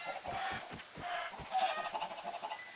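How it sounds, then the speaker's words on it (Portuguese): Video-game chicken clucking in a repeated series of short, close clucks and squawks, some with a brief rising call, with no talk over them. "Não, eu bati na galinha."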